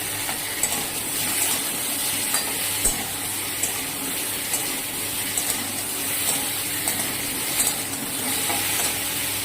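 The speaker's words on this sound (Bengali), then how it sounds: "একটু ভাজা ভাজা করে নেব, তারপর মশলা দেবো।" Boiled papaya with turmeric, cumin and coriander powder sizzling in a pan while being stirred, a steady hiss with occasional scraping knocks, close and fairly loud, no voices.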